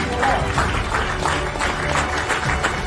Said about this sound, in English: Let's give them a really good round of applause, parents, please